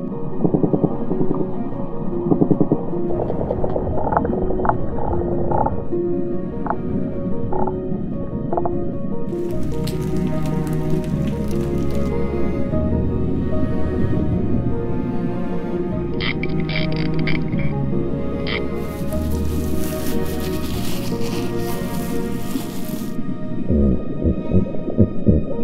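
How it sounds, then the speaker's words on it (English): Underwater ocean soundscape of marine life from surface to seabed, full of squishy clicks, creaks and drawn-out whale-like calls, with bursts of crackling snaps and hiss coming and going over a continuous low murmur. "From the surface to the seabed, it's a full orchestra of biological sound."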